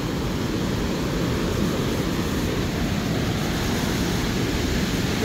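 Continuous roar of ocean surf, broad and steady, like waves breaking along a wide, shallow sandy beach at My Khe, Da Nang, with no pauses.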